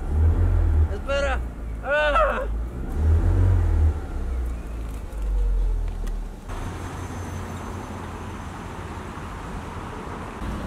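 A car engine cranks and revs in loud low-pitched bursts while people shout and talk over it, then settles into a steady idling rumble.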